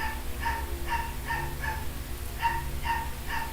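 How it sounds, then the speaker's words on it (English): A small dog barks repeatedly in the background, in two bursts of quick yips separated by a short pause, heard over a steady low rumble in the rainy outdoors. "Got a dog barking in the background. Not too loud though, it's a small dog."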